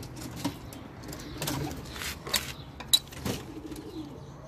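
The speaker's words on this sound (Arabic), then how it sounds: "ذني زواجل" Homing pigeons in a pigeon tower make soft cooing calls with a few brief wing flutters and scattered chirps, heard close by against a low rustling background.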